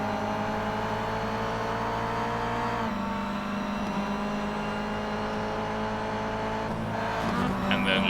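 Race car engine at full throttle in the iRacing game at Long Beach, a loud sustained high-pitched drone that shifts pitch around three seconds in and again near the end, with other cars audible.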